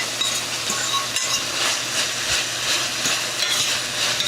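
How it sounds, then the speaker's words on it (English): Spinach being stirred into a filling frying in a pan for stuffed peppers, a steady close sizzle with soft scraping stirs throughout. "I'm going to mix that spinach in there."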